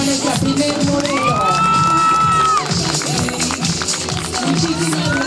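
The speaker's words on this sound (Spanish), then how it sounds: "Un aplauso para nuestra primer modelo." Audience at a quinceañera cheers, whoops and claps in a loud, steady crowd roar, with voices shouting over it throughout.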